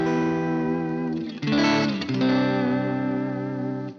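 Electric guitar through a Boss GT-1000 tweed-style amp patch with volume rolled back, a sustained chord followed by a brighter restrike that rings out, with a mostly clean, warm tone.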